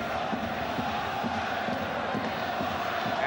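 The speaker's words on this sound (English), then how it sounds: "Crowd playing their part." A football crowd at Ewood Park during an FA Cup fifth round replay between Blackburn Rovers and Arsenal roars in a steady, dense wash, with rhythmic chanting pulses rising through the noise.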